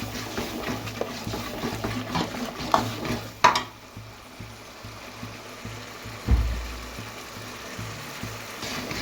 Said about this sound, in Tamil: இந்த சோயா சாஸ் பாட்டிலில் கொஞ்சம் ஊற்றணும் ஊற்றிட்டு நல்லா கலக்கணும்